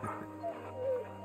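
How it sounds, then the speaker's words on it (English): Torgal, the dog companion in Final Fantasy XVI, lets out a short series of soft, high whimpers and whines, faint and close over a quiet game-ambience drone. "I can pet the doggo."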